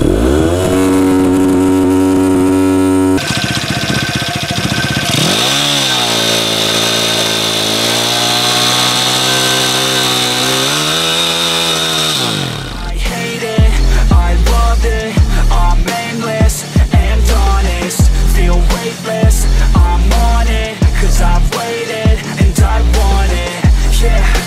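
A YCF pit bike engine revs hard in a forest, first a sustained high buzzing rev that dips and climbs, then a series of sharp rhythmic throttle blips and bursts, loud and close.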